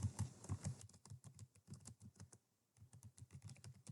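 Typing on a computer keyboard: rapid, irregular clicking keystrokes, fairly close and moderately quiet, with a brief pause partway through before the typing resumes.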